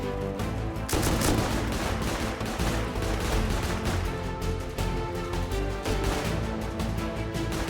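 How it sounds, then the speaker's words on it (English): Gunfire and rockets during a raid in the survival game Rust, dense overlapping bursts of rifle and machine-gun fire with heavier blasts, near and loud throughout, with no talk. "They're firing rockets at them, they're holding and ducking behind half walls."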